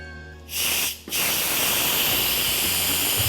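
An Instant Pot lets off steam while buns cook inside. A loud, sustained hiss starts suddenly, drops out briefly, then comes back steady and forceful until the end.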